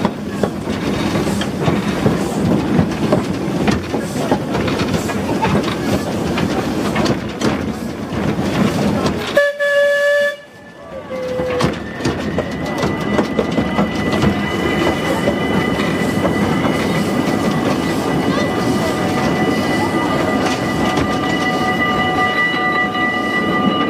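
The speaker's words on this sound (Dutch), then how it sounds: "we zijn even met de trein geweest." Steady rumble and rattle of an amusement park train ride at Efteling in winter, loud and continuous, broken midway by a brief quieter pass before a squealing wheel tone rises and lingers over the running noise.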